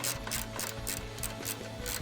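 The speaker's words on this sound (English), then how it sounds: "Again, it's a 10mm, so just grab your wrench and then wrench it off." A ratchet wrench backs out a 10mm bolt from the radiator support of a 2005-2009 Mustang GT, giving a steady, rapid run of close, crisp clicks with no talking.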